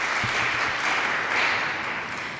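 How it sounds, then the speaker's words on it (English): An audience at an awards ceremony gives a violinist a short, dense burst of applause, with steady, full clapping that swells briefly and then starts to fade. "So please, another round of applause for Gabriel Bartley Walters"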